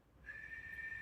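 A person whistles quietly, one steady sustained tone held for about a second after a brief pause, soft and close.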